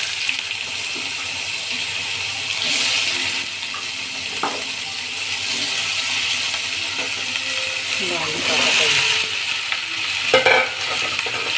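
Sliced bitter gourd (kakarakaya) sizzles steadily in a hot pan while it is stirred, with occasional scraping and clinks of the utensil, as a voice talks over the frying.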